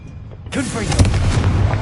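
A Confringo fire spell goes off in the Hogwarts Legacy video game, a sudden loud booming blast with a rumbling tail, set against game voices and effects.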